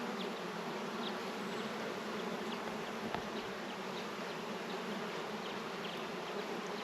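Honey bees swarm and buzz steadily around an open beehive with old comb frames, a dense continuous hum filling the air with no talking.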